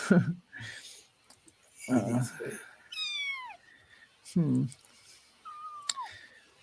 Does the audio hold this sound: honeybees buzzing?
no